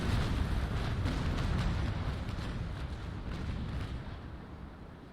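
A ship's cannon broadside in the naval combat game Naval Action, heard as a dense, sustained roar of overlapping booms and rumbling that slowly fades over several seconds, loud and close, with no voices.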